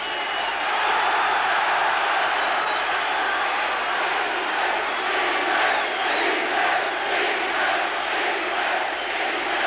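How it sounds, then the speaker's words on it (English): A boxing arena crowd roars in a dense, continuous wall of shouting and chanting at a fight between Barry McGuigan and Juan Laporte, loud and sustained throughout. "Premature cries of easy from this crowd."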